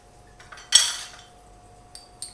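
Spoon mixing a yogurt marinade for chicken tikka in a bowl: a few sparse metallic clinks, one sharp and loud, the rest light taps in a quiet kitchen.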